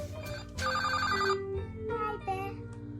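Toy telephone ringtone chiming in a child's play kitchen setting, a bright electronic melody repeating in short bursts over soft background music, fairly close and steady.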